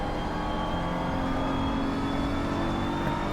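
A BMW M4 GT3 race car at Barcelona in a racing video game, engine at full throttle with a loud, continuous high-revving drone and a faint whine on top, steady throughout.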